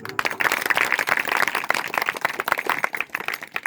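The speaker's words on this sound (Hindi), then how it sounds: "एक बार ताली बजाएं" Audience at a religious satsang gathering breaks into applause, a dense, steady patter of many hands clapping close by, filling the whole moment with no talk over it.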